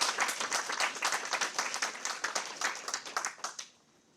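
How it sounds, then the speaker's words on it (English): An audience claps after a census results presentation, steady dense applause for about four seconds that fades out at the end. "I think it deserves another round of applause"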